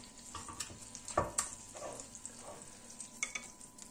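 Lamb pieces for a tajine browning in a pan: a quiet, low sizzle with a few sharp crackles and spatters, heard close and alone.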